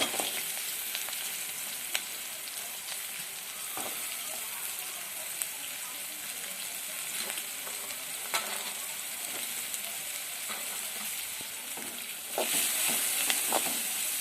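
Sliced onions sizzle in hot oil with green chilies, a continuous moderate frying hiss broken by faint clicks and stirring, growing slightly louder near the end.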